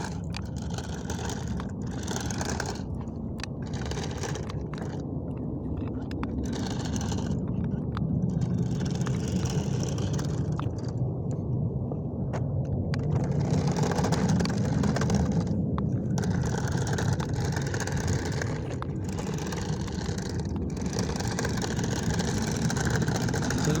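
A toy Batmobile remote-control car drives outdoors, its small motor giving a steady, continuous whir with scraping and rolling noise from the ground, holding fairly constant loudness for the whole stretch with no talk.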